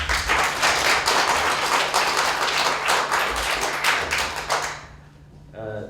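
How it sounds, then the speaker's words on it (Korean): A theatre audience at a stand-up comedy show claps steadily and loudly for about five seconds, the applause dense and close before it fades away, with a voice starting up briefly at the very end. "박수 한번 보내주세요."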